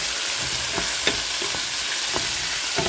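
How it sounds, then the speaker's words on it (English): Tomatoes and jalapeño pepper sautéing with spices for chicken and vegetable soup: a loud, steady, close sizzle broken by occasional soft clicks and scrapes of stirring, with no talk. "So sauteing maybe good for 1 minute so that the spices will infuse all together wonderfully."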